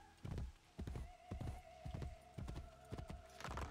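Horse hooves clip-clop in Assassin's Creed Brotherhood, a steady trotting rhythm of soft thuds with a faint neigh-like tone, fairly quiet and alone.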